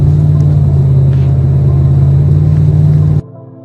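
A vehicle rides down Highway 183 near Dallas-Fort Worth, Texas, its cabin filled with a loud, steady low engine and road rumble that cuts off abruptly near the end.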